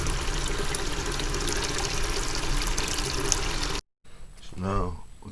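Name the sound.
hot water pouring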